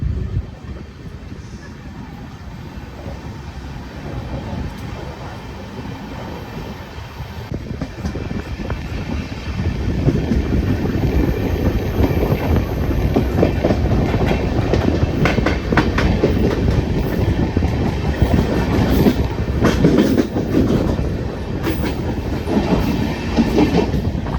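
Punalur–Madurai Express running on new LHB coaches pulls away from Neyyattinkara station after a one-minute halt, a steady rumble and clickety-clack of wheels on rail building in loudness as the train gathers speed.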